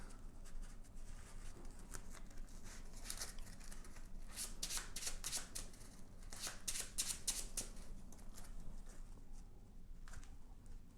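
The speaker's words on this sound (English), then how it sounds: "all of these cards get shuffled back into the deck" Playing cards for the board game Death Valley being shuffled back into the deck, a series of riffling flutters and soft slaps in bursts, close and quiet.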